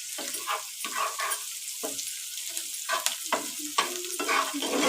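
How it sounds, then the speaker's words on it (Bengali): Eggs for egg Maggi noodles being beaten in a bowl, quick scraping whisks coming in short irregular bursts, close and moderately loud with no talking. "ডিমটা ভালো করে ঘেঁটে দিতে হবে।"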